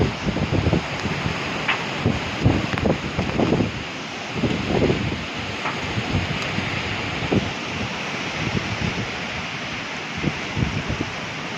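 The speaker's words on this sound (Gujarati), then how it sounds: "વાવાઝોડું આવ્યું છે." A storm brings heavy rain and gusting wind, heard as a dense, continuous roar of rushing noise with irregular gusts and buffeting against the microphone, with no voices.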